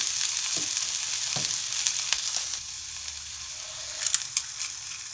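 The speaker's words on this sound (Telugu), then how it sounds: "మంచిగా వేగినాయి మిరపకాయలు" Steady sizzling of dried red chillies frying in hot oil for a chutney, with occasional crackles and a few soft stirring knocks, no voices.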